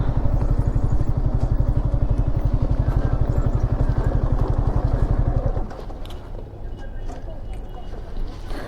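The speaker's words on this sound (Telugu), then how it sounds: "ఇక్కడ పెడదాం బైక్." A Yamaha R15 motorcycle idling with a steady, rapid engine throb, close and loud, which cuts off about two-thirds through as it is parked, leaving quieter background noise with a voice talking.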